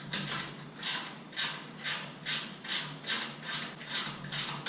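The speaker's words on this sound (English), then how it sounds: "we're just going to go ahead and tighten up these U-bolts." A steady run of ratcheting clicks from a wrench tightening the U-bolts on a beach cart axle, about nine even bursts close by, with no voices.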